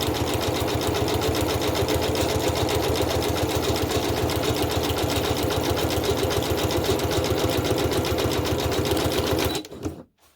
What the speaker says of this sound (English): When you do zigzag and you want to turn on the corner, you need to put your needle in this position.